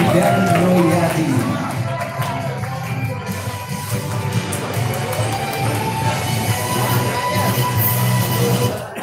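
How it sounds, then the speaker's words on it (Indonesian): Continuous applause from a large audience at an institute inauguration ceremony, a dense steady patter of many hands sustained at full strength throughout, with a voice faintly audible within it. "kita berikan tepuk tangan yang meriah buat Darmansyah,"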